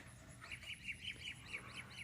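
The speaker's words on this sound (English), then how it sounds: "I can't believe this blue jay's this close to me" Close by outdoors, a blue jay gives a run of harsh, rhythmic squawks, about eight evenly spaced calls over a low background hum, with no talking.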